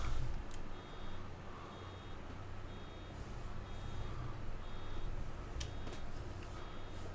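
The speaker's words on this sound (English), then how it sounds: "You have enough to turn the beeper on." Vehicle reversing beeper in Farming Simulator 22 on the Spring Creek, North Dakota map: a steady series of evenly spaced high beeps, about seven in a row, over a constant low engine drone.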